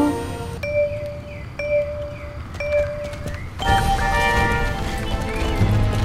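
A horse in the game Star Stable with rhythmic hoofbeats and repeated tonal chimes, then a fuller, louder burst of galloping motion and rushing noise in the second half.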